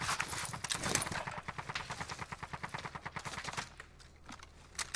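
Rapid bursts of automatic gunfire from a gun in Call of Duty: Warzone, a loud, close, evenly spaced volley of shots that runs for several seconds and then stops abruptly, leaving quieter background noise.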